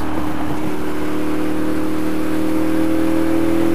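A sports motorcycle on a highway holds a loud, steady high-revving engine whine, a close, constant buzzing drone that barely varies across the stretch.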